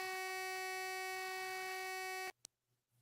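An electronic beep from a computer during a live online call, a steady high tone that holds for a little over two seconds and then cuts off abruptly, followed by a short click and near silence.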